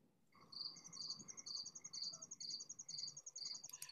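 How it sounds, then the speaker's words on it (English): Crickets chirp in steady, rapid pulsed bursts, a repeating high trill close by over a faint low background hum. "Let's listen to crickets chirping."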